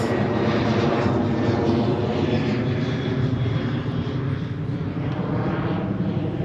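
American Airlines airliner doing a go-around overhead, a steady loud broadband roar of jet engines that holds throughout with little change, no voices heard.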